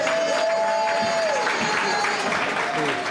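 Steady applause from an audience at a National Assembly medal ceremony, a continuous even wash of clapping lasting the whole stretch, with a sustained tone and murmured voices underneath.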